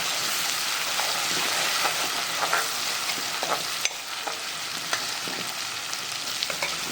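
Ginger, garlic and green chili paste fries in a pan for Kolkata-style egg chop, a steady dense sizzle carrying on throughout with brief scraping clicks from stirring scattered across it, close and fairly loud, with no voices.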